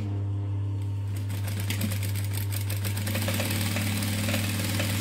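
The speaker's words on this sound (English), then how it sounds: "So I'm just stitching right on the edge, just to tack it down." A sewing machine stitches along the edge of a handmade fabric wallet, starting after a brief pause into a close, rapid, steady mechanical whir and rhythmic needle clatter over a constant low motor hum.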